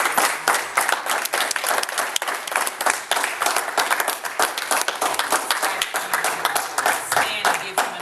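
A church congregation claps for a speaker, a steady crisp round of many hands that stays strong and even throughout, with voices mixed faintly into it.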